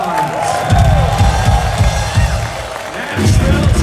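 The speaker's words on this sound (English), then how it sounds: "Give yourselves a round of applause." Concert crowd at a live show in a Nashville bowling-alley venue cheers, whoops and claps loudly and steadily, a dense roar of voices and applause filling the whole stretch.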